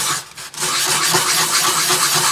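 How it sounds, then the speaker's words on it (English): Coarse 150 grit sandpaper, used wet, scrubs hard across a new watercolor palette, giving a loud, close, gritty rasp of rapid back-and-forth strokes after a brief dip at the start. "I could try a rougher sandpaper. This is 150 grit"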